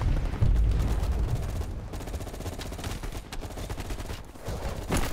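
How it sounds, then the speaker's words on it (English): Dense gunfire in a firefight against a Viet Cong attack in Call of Duty: Cold War, continuous rapid automatic bursts with scattered heavier booms, loud and sustained. "you woke up in the middle of a firefight"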